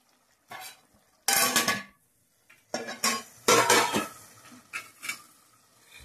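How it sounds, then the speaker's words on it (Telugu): Metal clatters and scrapes of cookware as a lid is set on a cooking pot of gongura chicken, in several short bursts with quiet gaps between them. "ఇప్పుడైతే మూత వేస్తున్నాను."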